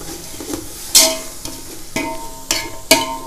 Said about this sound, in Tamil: புதினா கொத்தமல்லி போட்டு ஒரு வதக்கு வதக்கிடலாம்